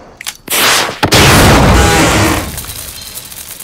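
A breaching charge blows open a compound gate: a few sharp clicks, then a loud close blast with a roaring, crunching rush that tails off into debris.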